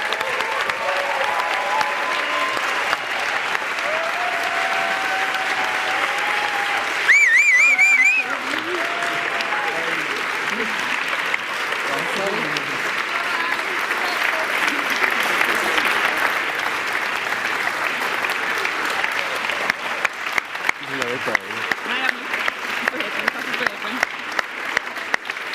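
Sustained applause from an audience at a coworking community's tenth anniversary celebration as members come on stage to receive lifelong membership certificates, steady and dense throughout, with a brief musical jingle and talk-like sounds woven in, and some louder individual claps near the end.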